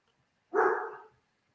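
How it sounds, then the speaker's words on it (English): A dog indoors lets out one loud, short bark lasting about half a second, with quiet around it and no talking. "sorry if y'all hear my dog in the background. She's getting kind of loud"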